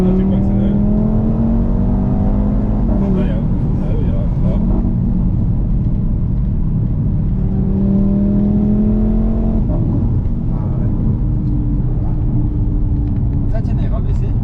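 Stage 2 Audi RS3 tuned to 500 hp accelerating hard from inside the cabin, engine note sweeping up through repeated gear pulls with rising whines and a deep rumble, while people talk over it.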